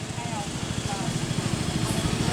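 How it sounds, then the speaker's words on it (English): A small powered wheelbarrow engine idles nearby with a steady, rhythmic low chugging, and a voice speaks briefly over it. "Powered wheelbarrow."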